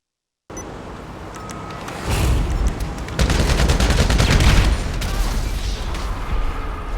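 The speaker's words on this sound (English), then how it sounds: "I'm going to shoot the sticky bomb out of his hand" Gunfire in GTA Online aimed at a sticky bomb in an enemy's hand: a sustained loud barrage of shots with engine rumble and an explosive boom, no talking.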